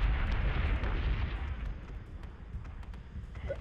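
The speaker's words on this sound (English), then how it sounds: "Missiles incoming." Incoming missiles explode in the space strategy game Battlestar Galactica Deadlock as a low, rumbling barrage of booms that slowly tails off, with faint higher pops scattered through.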